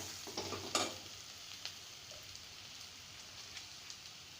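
Vegetable samosa filling sautéing in a pan, a faint, even hiss of frying with a few light stirring taps near the start, then a quiet steady sizzle.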